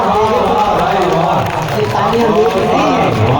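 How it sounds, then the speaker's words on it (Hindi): Audience applause fills the hall at a Hindi poetry recitation in Farrukhabad, a dense, steady wash of clapping with voices mixed throughout, lasting the whole stretch. "इस ताली के बाद"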